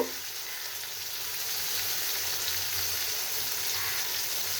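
Tomato added to a hot frying pan while cooking a bottle gourd and bean curry, giving a loud, steady, close sizzle that swells slightly and holds throughout.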